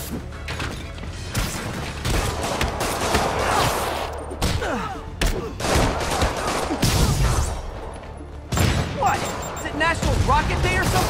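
Rockets and gunfire in the Spider-Man PS4 game, loud bursts of shots and blasts crashing in rapid, irregular succession, mixed with mechanical clatter and brief voices.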